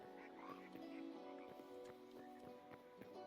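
Cartoonish duck quacks from the video game Hytale, a few short calls over steady in-game ambience and music, with occasional light clicks.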